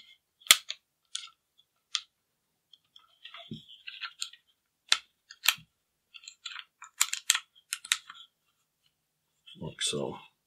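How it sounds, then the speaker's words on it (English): A Sig P320 M17 pistol has its trigger module removed, giving a close run of sharp metallic clicks and snaps with short pauses between them, ending in a louder rustling burst. "This just shows how easy it is to remove the trigger module."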